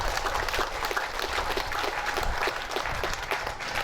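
Loud, steady applause from an audience at a Madurese arts performance and speech event, dense clapping that holds evenly throughout with no pauses.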